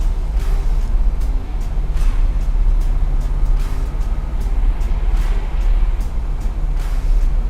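A 1963 split-window Corvette engine with a solid lifter cam idles steadily and loudly nearby, its deep continuous rumble carrying faint, regularly repeating valve-train ticks.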